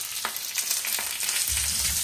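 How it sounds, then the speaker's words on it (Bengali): Fried brinjal and bottle gourd slices sizzle steadily as they are reheated in a pan on the stove, with soft stirring scrapes and a brief louder crackle near the end. "বাবাকে একটু গরম করে দিচ্ছি ভাজা।"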